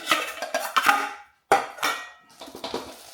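Metal ALOCS CW-C05 camping cookset pots clink and clatter as they nest together in short bursts, a few ringing knocks close up, with a brief silent gap between handlings.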